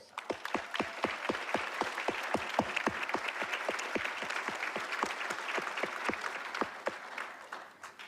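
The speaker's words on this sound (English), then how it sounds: "Please, let's give them a round of applause." A commencement ceremony audience at Bermuda College gives sustained applause, loud and near, with a strong, evenly spaced clapping beat running through the crowd before it fades slightly at the end.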